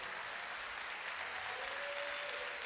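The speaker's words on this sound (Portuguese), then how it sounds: "aplauda mais forte que você puder ao Senhor" A church congregation claps loudly and continuously for the Lord during a family worship service, a steady dense roar of applause with a faint voice briefly heard underneath.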